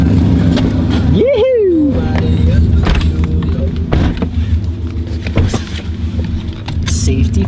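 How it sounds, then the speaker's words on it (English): Subaru car driving, a steady engine and road drone with a loud whooping shout near the start and people talking inside the cabin. "gonna go for a quick rip in the Subaru to test this thing out"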